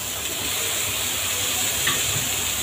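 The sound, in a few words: sponge gourd added to spiced pan, sizzling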